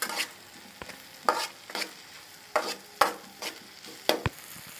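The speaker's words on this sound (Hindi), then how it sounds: "इस प्याज और टमाटर के मिश्रण को हम 2 से 4 मिनट तक धीमी आंच में सेकेंगे" Onion and tomato mixture frying on a low flame for egg Maggi noodles, a soft continuous sizzle punctuated by five or six sharp, evenly spaced spatula scrapes and stirs, close up with no talking.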